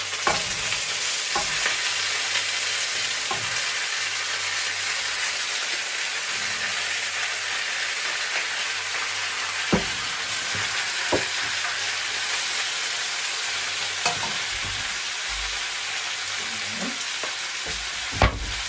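Tomatoes fry in a pan for Filipino chicken stew, a loud, steady close sizzle with occasional sharp clacks of stirring utensils against the pan.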